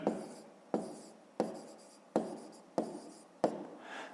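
Handwriting out a fifth-grade math solution with fractions makes six crisp scratching strokes at an even pace, each starting sharply and tapering off, with no talking.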